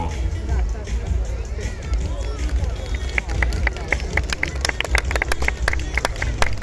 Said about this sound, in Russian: Под ваши аплодисменты мы начинаем